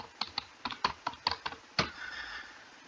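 An iqama number typed on a computer keyboard: about a dozen crisp, separate key clicks in an uneven rhythm, ending in a firmer press, close and fairly quiet.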